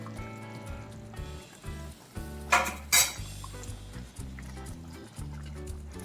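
A lid clanks twice onto a metal cooking pot of simmering mutton shorva, two sharp bright knocks over steady background kitchen clatter and low hum, with no talking.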